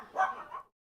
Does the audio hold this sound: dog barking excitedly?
yes